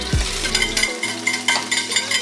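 Vegetables land in a pan of hot olive oil with garlic, setting off a loud, steady sizzle with a brief clatter at the start and a continuous frying hiss.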